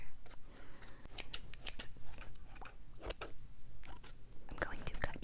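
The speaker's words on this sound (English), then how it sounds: "I'm just holding scissors, talking about tea, cutting in the air." Scissors snipping in the air, a quick series of sharp metallic clicks close up, mixed with soft whispered speech.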